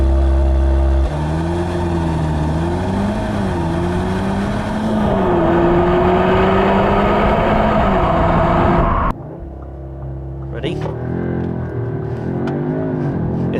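A 2020 Audi S3 Saloon (8Y) launches and accelerates hard, its engine note climbing steadily through the gears with brief dips at shifts, loud and close, then dropping away before revving up again.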